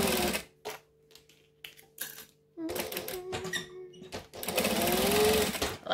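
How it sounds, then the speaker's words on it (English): Sewing machine chain stitching the edges of a bag, coming in short bursts and stops and then a longer steady run, loud and close, with a voice briefly heard. "So I'm just going to chain stitch these and trim off the tails"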